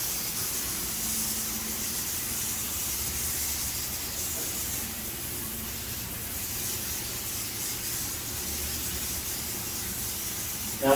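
A paint spray gun hisses steadily while spraying metalflake paint onto a tank, a continuous close airy spray that barely changes in loudness.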